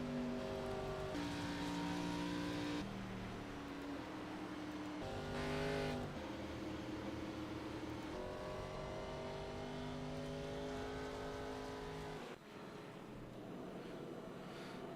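Sim race cars circle the oval at Rockingham, engines droning continuously with pitch rising and falling as cars pass and shift, several overlapping engine notes, loud and unbroken throughout.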